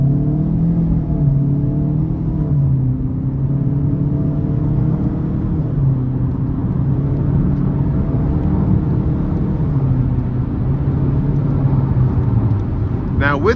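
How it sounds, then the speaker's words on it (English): A 2025 Chevy Equinox LT with a turbocharged engine and CVT accelerating under throttle, a steady low engine drone and road rumble heard from inside the cabin throughout, with a brief brighter sound at the very end. "I'm gonna slow it down and we're gonna give it a little throttle here."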